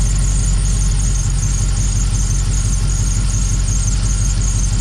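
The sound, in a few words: Dodge Dakota R/T engine idling while injectors are unplugged one at a time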